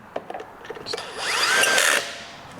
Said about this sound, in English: nice and quick with a power tool like this